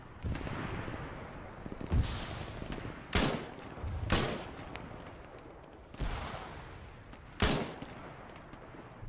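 Mk-1 EMR rifle fire in Arma 3 rings out as sharp, loud single shots spaced a second or two apart, each followed by a rolling echo tail.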